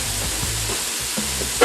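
Raw shrimp tipped into a hot oiled pan give a steady, loud broadband sizzle with soft low thumps and scraping as they land and settle, continuing for under two seconds.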